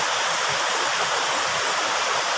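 Steady rushing water flows nearby, a continuous hiss of a river with no pauses or voices.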